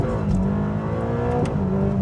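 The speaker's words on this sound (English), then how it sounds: "The other part of that equation is the sound that the car makes." A 2021 Ferrari Roma engine revs loud and close from inside the car, a steady sustained drone that shifts pitch mid-way through an upshift.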